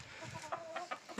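Hens clucking in short, soft bursts, several birds of a flock of hens with a rooster close by, brief pauses between calls, faint and uneven.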